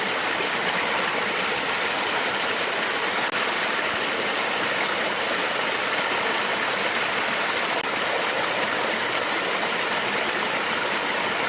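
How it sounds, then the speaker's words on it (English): A small creek rushes steadily outdoors, a constant broad hiss of flowing water, close and even throughout with no voices. "and this is on a small creek."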